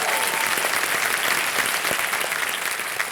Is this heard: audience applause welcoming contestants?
yes